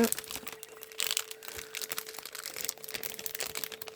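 Sheets of holographic paper are handled and crinkled close by, crisp rustling bursts coming and going, with a person speaking quietly over part of it.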